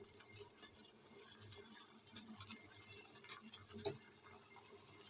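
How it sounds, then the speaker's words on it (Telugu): Water boils in a pot for semiya upma with a faint, steady bubbling patter and a brief louder splash near the end, heard alone at low volume. "వాటర్ బాగా మరిగింది కదండి."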